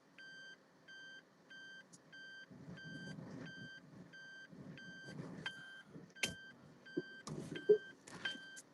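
A running car's warning chime repeats in a steady series of beeps, with intermittent rumbles and a few sharp knocks and clunks close by.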